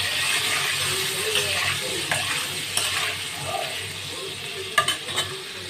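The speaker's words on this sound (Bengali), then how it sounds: "আলুটাকে একটু ভেজে নেব লাল লাল করে" Potatoes sizzling in hot oil in a pan with salt and turmeric, a steady frying hiss with occasional stirring scrapes and spatula clicks.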